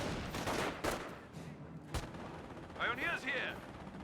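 Gunfire from an MG42 machine gun in a World War II battle in the game Company of Heroes, sharp cracks and bursts over a busy battlefield din, with a brief higher whining tone near the end.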